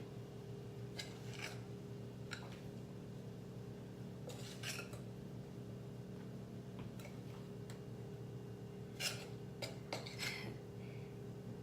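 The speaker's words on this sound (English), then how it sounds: "it takes a little bit to get all the flour mixed in there" Flour being worked into keto pita chip dough in a bowl gives soft scraping and clinking of a utensil against the bowl, scattered irregular knocks over a steady low background hum, with no talking.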